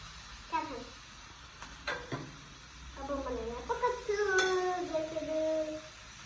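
Chow mein is stirred in a pan with a utensil, giving a few light scrapes and clinks against the metal, quiet and close, while a child and an adult talk over it.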